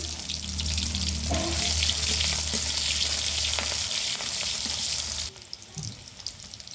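Cumin seeds and chopped onion fry in hot oil, giving a loud, steady sizzle with light stirring clinks that runs for about five seconds, then drops away abruptly to a quieter crackle.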